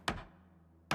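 Two separate thuds of a single wooden plank being nailed over a window as a barricade in Project Zomboid, one near the start and one at the very end, with a faint low hum between them.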